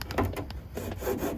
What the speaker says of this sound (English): the fishing line's just pretty much sawing through the glue